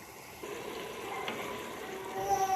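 Soaked mash dal lentils fry with spices in a pan with no water added, a faint, soft sizzle with low crackling held at a quiet level throughout.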